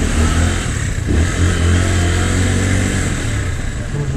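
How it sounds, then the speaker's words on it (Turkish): A bus engine revs hard and rumbles loudly as the bus pulls away, a dense, steady roar that holds throughout at close range. "Aa, kalkıyor otobüs."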